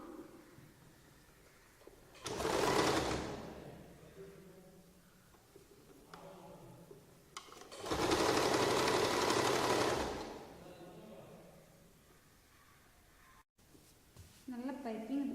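A sewing machine stitches a lined churidar top in two runs of whirring, one short and one longer. A person talks quietly in Malayalam in the pauses between them.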